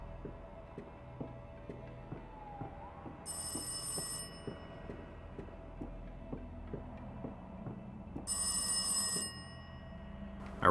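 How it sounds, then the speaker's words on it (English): A telephone rings twice in the horror video game Rise of Insanity, two bright electronic bursts several seconds apart over a steady ticking and low hum, with no talking. "Okay, so the phone is ringing again."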